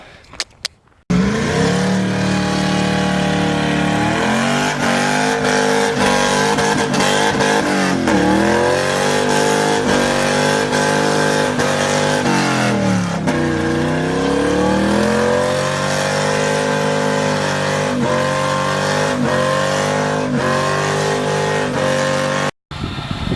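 A drift car engine revs hard while drifting, a loud sustained howl rising and falling in pitch with sharp throttle swings, close and continuous with no talking.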